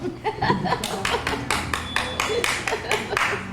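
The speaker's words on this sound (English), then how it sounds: "You can start clapping now." Scattered audience clapping after a magic trick at an evening event, a handful of separate sharp claps in an uneven rhythm, with a faint chuckle and brief voices mixed in.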